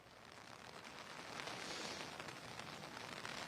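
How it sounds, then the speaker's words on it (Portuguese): Steady hiss of heavy rain, dense and continuous and swelling slightly, with no voices. "Muita chuva desde cedo agora, chove forte também."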